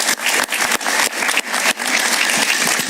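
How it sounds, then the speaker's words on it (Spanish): Studio audience applauding a guest author on a talk show, a dense, steady wash of clapping close and loud, with a few brief dips in intensity and no talk over it. "Un aplauso para él."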